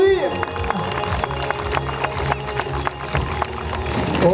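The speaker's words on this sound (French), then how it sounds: "ça fait plaisir d'entendre un petit peu ces applaudissements" An outdoor audience at a BMX and mountain-bike trial show in Thaon-les-Vosges claps in a scattered, continuous patter of hand claps and cheers, while someone speaks over it through a loudspeaker.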